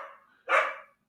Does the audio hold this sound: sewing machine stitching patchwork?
no